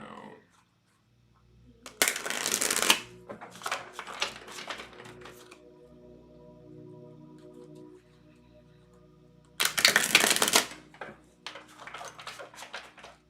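Tarot cards are shuffled by hand in two loud, dense bursts of riffling and slapping, separated by quieter handling and tapping of the deck.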